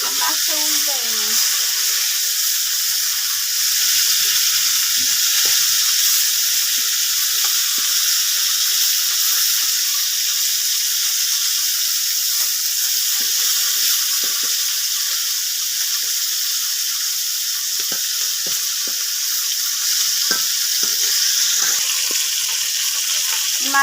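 Snakehead fish sizzling in oil in a wok, a continuous bright hissing fry with scattered crackles and light scraping, while a person talks briefly.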